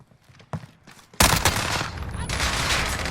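A Vector submachine gun firing in Call of Duty Modern Warfare, a sudden loud burst of very rapid shots that keeps rattling on, with a few quieter sounds just before it.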